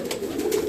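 Indoor pigeons cooing in a room kept warm against winter cold, a soft continuous low murmur of calls, close and steady without speech.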